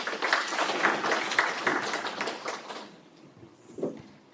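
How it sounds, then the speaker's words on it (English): Audience at a high-level stakeholder engagement claps for the Governor, a steady burst of applause that tapers off after about three seconds, leaving quiet room tone and a brief voice. "May we please give her another round of applause."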